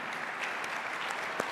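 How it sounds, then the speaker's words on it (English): A conference audience at a plenary session claps in a brief, steady round of applause, dense and even with a single sharper clap standing out near the end, no voices over it. "please, a round of applause for this breaking news"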